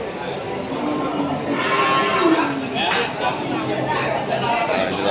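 Cattle moo at the crowded Wirasari cattle market in Central Java, with a few low calls rising over busy crowd chatter and people talking nearby.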